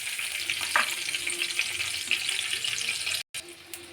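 Whole spices crackle and sizzle in hot oil left over from frying potatoes, a steady close frying hiss with small pops, moderately quiet, ending in a brief cut near the end.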